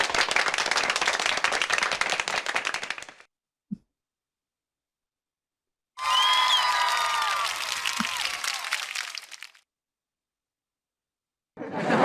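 Canned applause sound effects from a 7RYMS 7Caster SE2 podcasting and recording interface, two loud bursts of crowd clapping and cheering separated by silence, with a third beginning at the end.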